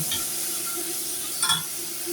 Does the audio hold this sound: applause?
no